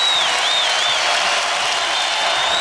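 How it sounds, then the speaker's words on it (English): The McHale crowd at an Arizona vs. Stanford college basketball game roars and applauds after a three-pointer, a loud, continuous wash of cheering with a few shrill whistles cutting through. "that brings the McHale crowd to their feet"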